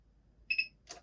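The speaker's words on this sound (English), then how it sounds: "heard 2 beeps" Two short, high-pitched electronic beeps in quick succession from a nearby Logitech MX Mechanical keyboard, followed by a soft click, in an otherwise quiet room.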